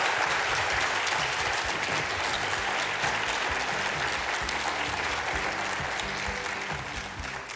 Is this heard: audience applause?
yes